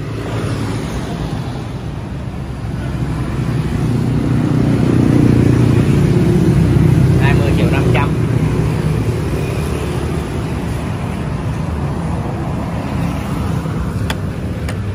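Honda Dream motorcycle engine running steadily nearby, a smooth, even drone that swells briefly in the middle before settling back to a constant level.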